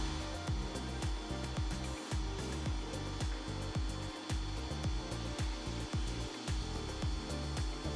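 A nozzle flushes the black tank of an RV with a steady rushing hiss, overlaid by rhythmic knocking thumps as it is worked back and forth.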